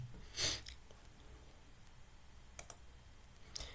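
A few sharp computer keyboard keystrokes in a quiet room: one cluster near the start, then a quick pair of taps later and a final light tap, each brief and fairly close.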